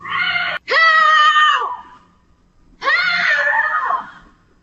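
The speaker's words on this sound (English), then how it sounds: "Look, hear her screaming." A woman screams in two long, shrill bursts with a short gap between them, loud and close, heard through the playback of a video.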